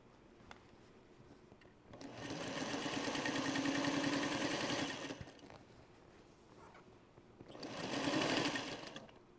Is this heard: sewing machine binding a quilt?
yes